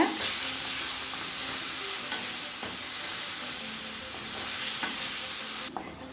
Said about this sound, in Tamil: மாங்காயை நல்லா வதக்கிக்கலாங்க